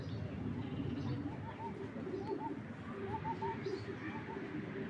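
Pigeons at a pigeon seller coo in soft, repeated low bursts against a steady background murmur of voices and movement, fairly faint and close.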